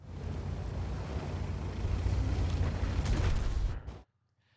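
A tank cannon fires in World of Tanks from an Object 257 heavy tank, a loud rumbling blast that rolls on for several seconds and then cuts off abruptly into near silence.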